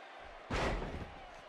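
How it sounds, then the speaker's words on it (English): A wrestler slams an opponent to the mat in the WWE 2K18 wrestling game, one heavy impact thud with a short rumbling tail, standing alone over a quiet background. "She slams her down with great force."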